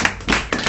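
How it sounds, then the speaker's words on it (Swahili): A church congregation at a Sunday service clapping loudly, heard as a short run of close, dense claps in quick bursts. "Hebu pigia Bwana makofi makubwa."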